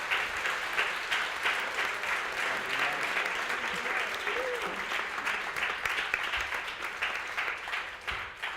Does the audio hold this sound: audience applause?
yes